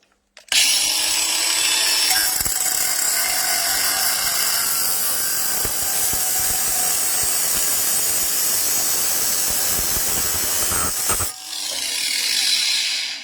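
An angle grinder fitted with a 125 x 1.0 mm Novoabrasive synthetic cutting disc cuts through a plate, a loud continuous high-pitched screech lasting about ten seconds before spinning down, with no voices.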